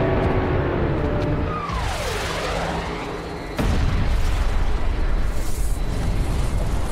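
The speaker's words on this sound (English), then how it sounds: "The asteroid hits with an explosive force of 100 trillion metric tons" Massive asteroid impact explosion: a rushing, whooshing roar with a descending whistle builds, then a sudden loud blast erupts into a sustained heavy rumble that fills the rest of the moment.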